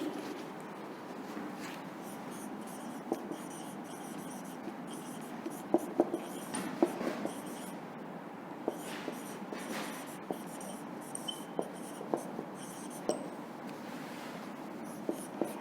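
Pen scratching steadily as keywords are written during a classroom lesson, with continuous close scraping and scattered small taps of the pen. No speech is heard.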